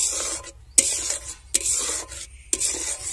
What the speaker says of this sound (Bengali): এরপরে আমি দিয়ে দেবো গুঁড়ো দুধ, দিয়ে আমি হালকা আঁচে নাড়তে থাকবো।